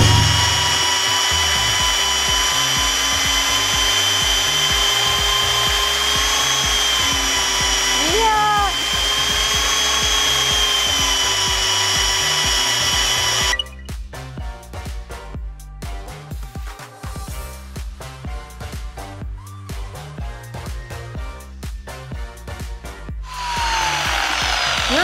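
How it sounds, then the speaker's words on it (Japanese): A budget single-action car polisher runs flat out at maximum speed, held on one spot of the car's paint. Its loud, continuous motor whine fills the clip and shifts to a rougher, choppier tone about halfway through. "シングルポリッシャーをレベルマックスで一点集中で磨くっていうのはほとんどないんですね。"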